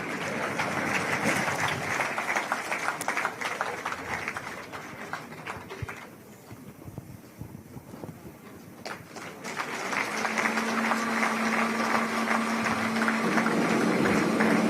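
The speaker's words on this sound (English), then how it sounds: "Kindly, as she comes, give her a big round of applause" Audience applause at a government programme launch presided over by Mudavadi: dense, steady clapping that fades in the middle, then swells again, with a low steady hum joining near the end.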